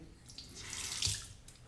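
A short, faint burst of tap water runs briefly into a sink while shaving lather is being made, a quiet hiss rising and fading within about a second.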